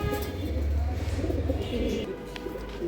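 Pigeons at a pigeon farm coo repeatedly in low, throaty rolls close by, with soft chirps and rustling mixed in and faint background noise.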